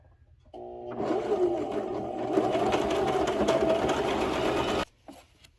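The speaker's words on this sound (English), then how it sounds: "you're just gonna sew along those little dashes." A sewing machine stitches along a fabric bonnet in one steady, continuous run of close, loud mechanical whirring lasting about four seconds, starting and stopping cleanly with quiet before and after.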